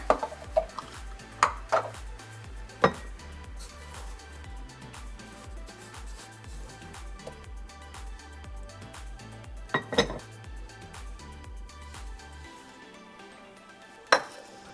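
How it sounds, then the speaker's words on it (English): Cinnamon roll dough ingredients, sugar and flour, being mixed in a bowl: repeated clinks and knocks of a utensil against the bowl over a soft, steady stirring scrape, close by, settling to quiet near the end. "And we mix it all together"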